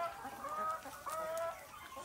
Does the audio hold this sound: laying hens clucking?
yes